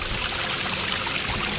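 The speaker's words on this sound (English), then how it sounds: "So fill this wheelbarrow up with some water." Water pours steadily into a wheelbarrow for a short stretch, a loud continuous gushing splash with no talking over it.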